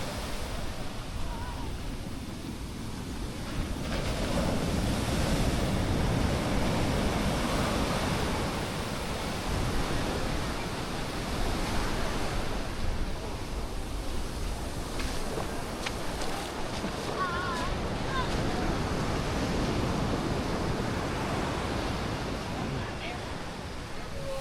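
Ocean waves wash onto the beach at Playa del Carmen in a steady, broad roar of surf mixed with wind noise, continuous and fairly close, with a person speaking briefly.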